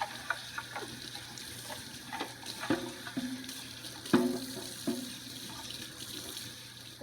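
Parts of a Bissell ProHeat Revolution Pet Pro carpet cleaner are rinsed under a faucet, giving a quiet, uneven splashing and trickling with soft knocks of plastic handled in the sink.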